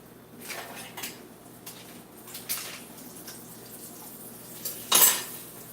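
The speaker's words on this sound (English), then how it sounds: "Just wiping down the pan a little bit." Soft scraping and wiping of a frying pan while French toast is cooked, a few faint rubbing strokes near the mic followed by a brief louder metallic clatter near the end, with no talk.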